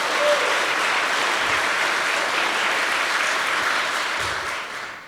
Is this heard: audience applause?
yes